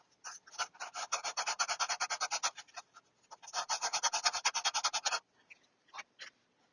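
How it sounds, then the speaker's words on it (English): Rhythmic rasping strokes of sanding inside a drilled hole in an ES-335 guitar kit body, two long bursts of rapid back-and-forth scrubbing with a brief pause between, followed by a few isolated scrapes; close and fairly quiet. "gently sanding the inside of the hole"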